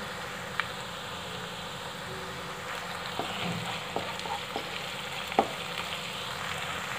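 Onion and ginger-garlic paste sizzle softly and steadily in a pan, with a few faint clicks of stirring.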